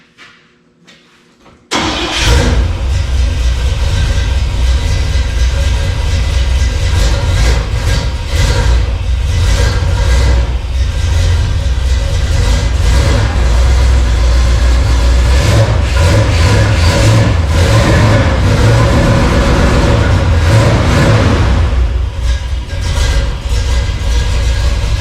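A crew cab truck engine cranks briefly, catches, then settles into a loud, steady idle close by that runs without a break.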